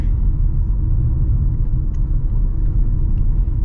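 The four-cylinder engine of a 2025 Toyota RAV4 LE pulls through acceleration as a smooth, steady low rumble, heard from inside the car at a constant loud level without speech.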